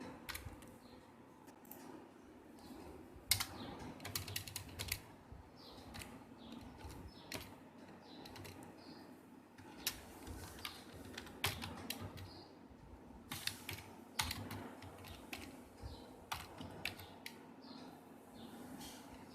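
Fingers tap on a computer keyboard in scattered clicks and short bursts, close and fairly quiet, with some keys pressed harder than others. No one talks.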